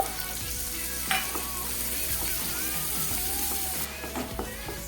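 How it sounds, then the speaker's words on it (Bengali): Chopped onion fries in a pan of hot oil for a spicy bori jhal curry, giving a steady, close sizzle with occasional stirring clinks and scrapes throughout, no voices. "পেঁয়াজটাকে খুব ভালো করে ভেজে নিতে হবে"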